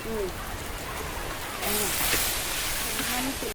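Steady rain falls close by onto surfaces as a continuous hiss that grows a little heavier partway through, with faint bird calls in the background.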